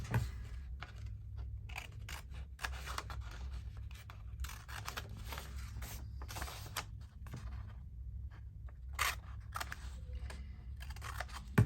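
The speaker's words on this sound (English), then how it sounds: "Oh, I need to snip." Scissors snip paper while folded paper bags are made from a single sheet. Quick, crisp cuts come close and fairly quiet in a loose, repeated rhythm, with no talking.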